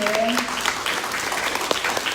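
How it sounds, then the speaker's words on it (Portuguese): A church congregation at an evening celebration service applauds, a steady patter of clapping hands with a few sharper individual claps, while a brief voice or tone lingers at the start. "Pode aplaudir ao Senhor pela vida dessa mulher"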